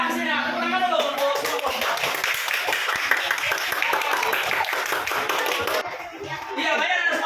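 Students in a classroom clap for group posters about putting rubbish in its place, a busy, uneven round of applause with voices mixed in that drops briefly near the end before talk resumes.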